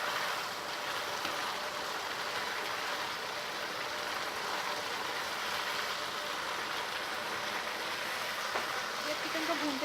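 Water is poured into frying chicken to make a korma gravy, giving a steady sizzling hiss with a faint pouring rush, continuous and fairly quiet throughout.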